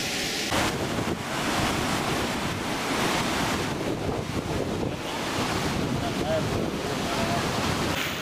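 Flood water rushes through Taunsa Barrage in a loud, constant roar of surging flow, mixed with heavy wind buffeting the microphone, without a break throughout.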